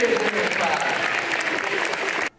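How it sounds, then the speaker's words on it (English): An audience applauds a theater class, steady close clapping at full strength throughout that cuts off abruptly at the end, with some voices mixed in. "Big round of applause for this theater"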